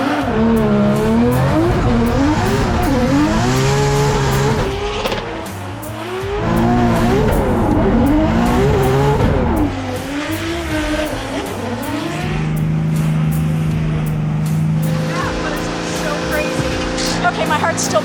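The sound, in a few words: race car ride-along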